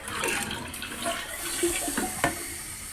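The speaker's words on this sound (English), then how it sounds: "Let's see if it flushes better now." A home toilet with a weak, incomplete flush rushes and gurgles with running water at close range, a steady wash of sound with a few small splashes and no talking.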